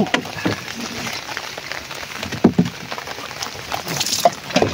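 Rain falls steadily outdoors onto surfaces near the water, a continuous soft patter with scattered sharper drips and splashes.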